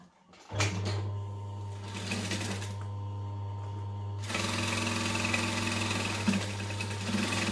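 A sewing machine stitches a Sweet Pea pattern seam, its motor whirring in a steady rapid rhythm, pausing briefly before starting again louder and faster, close up with no voices.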